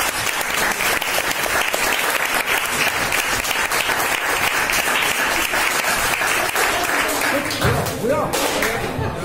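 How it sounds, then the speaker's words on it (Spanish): An audience at a writing award ceremony breaks into dense, sustained applause that fills the room, and near the end it thins into scattered claps and thuds. "Marta, un aplauso, por favor."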